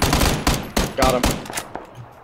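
Rapid close gunfire from a shooting video game, loud sharp shots in quick irregular bursts that thin out toward the end.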